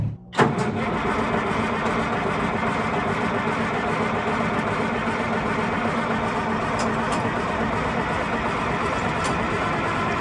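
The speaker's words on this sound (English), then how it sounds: "Sitting for a few weeks. Cold start. What a beast." A vehicle engine cold-starts after sitting unused for a few weeks, cranking briefly and then catching into a loud, steady idle that runs on close up for the rest of the clip, with no talk over it.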